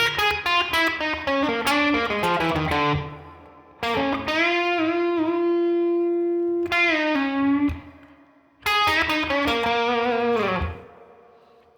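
An electric guitar plays a blues lick in three short phrases of bent, sustained notes, passed through an effects unit with distortion and modulation, each phrase ending in brief silence.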